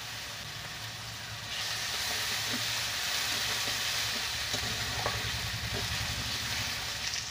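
Ground onion paste with ginger paste, nigella seeds, dried red chillies and a bay leaf frying in hot oil for a poppy-seed pointed-gourd curry, a steady loud sizzle that swells after a quiet start, with occasional stirring scrapes.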